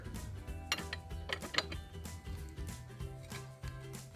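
A wrench works on the variator nut of a Yamaha XMAX or NMAX scooter, giving quiet, close metallic ratcheting clicks and taps in an irregular rhythm, with no talking.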